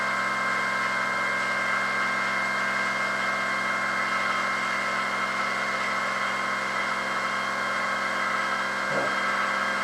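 A double-stacked, Arduino-controlled dual-pole mini motor with new rotors spins at 4,000 RPM, giving a continuous, steady, loud hum with tonal whine that holds unchanged throughout.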